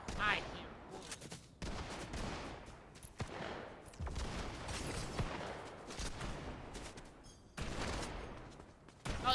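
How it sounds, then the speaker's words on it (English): Video game gunfire in bursts of sharp rapid shots and fusillades, moderately loud and repeating with brief gaps across the stretch. "I hear bullets."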